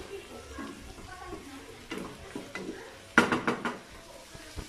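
Bistek tagalog is stirred in a pan after ground black pepper goes in, a quiet low sizzle with scattered metal clinks and a run of sharper spoon scrapes and knocks toward the end.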